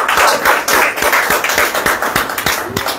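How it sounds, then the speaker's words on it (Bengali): An audience at a DXN business gathering claps for a speaker, a close, loud run of fairly distinct hand claps in a loose rhythm lasting around three seconds. "ওনার জন্য করতালি হবে"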